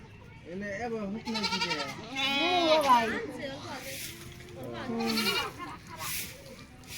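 Goats bleat several times in wavering, nasal calls, fairly close, with quiet outdoor background between the cries.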